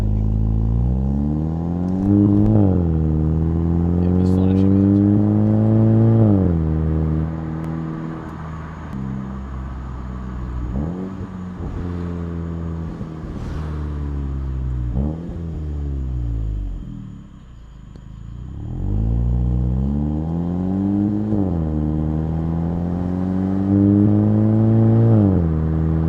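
Volkswagen Jetta GLI exhaust on a night drive, loud and close, with repeated rising drones through the gears, each ending in a sharp drop at the shift, easing off to a low idle-like hum midway before pulling hard again, no talking.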